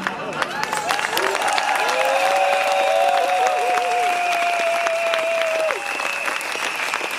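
A studio audience applauds steadily and loudly for several seconds, a dense wash of clapping with faint crowd noise and a few brief tonal voice-like sounds on top, easing slightly near the end.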